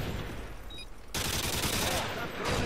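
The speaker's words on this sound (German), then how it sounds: "Siehst du die Schüsse?" Rapid bursts of gunfire in Modern Warfare 2 on Xbox 360, on the map Bailout, crackle and rattle, dense and continuous, with a brief quieter gap before the firing resumes louder.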